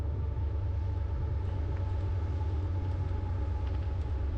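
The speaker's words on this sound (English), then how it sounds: "train going by" A train passes near a track, heard as a steady low rumble that holds at an even level with faint rail and wheel noise on top.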